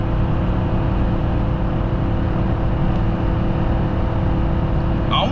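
A Ford F250 pickup with a 6.8L gas V8 towing a heavy load up a steep grade, its engine droning loudly and steadily from inside the cab as the transmission hunts for fifth gear.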